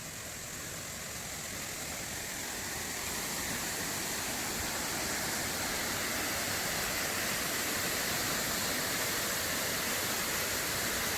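A waterfall roars in a dense, hissing broadband rush that swells slightly as it draws nearer, then holds steady and loud throughout with no voices.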